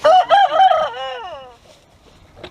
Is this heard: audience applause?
no